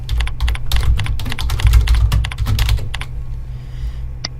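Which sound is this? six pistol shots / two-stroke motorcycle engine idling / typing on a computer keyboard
typing on a computer keyboard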